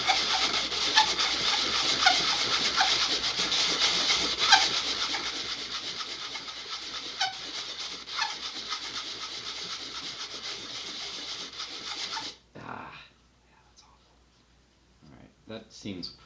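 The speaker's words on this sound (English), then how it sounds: "I think I'm just going to sand it and hope for the best" Sandpaper rubs back and forth over a cut part of an Estes SpaceShipOne model rocket in quick, close rasping strokes that fade out near the end, followed by a few soft handling knocks.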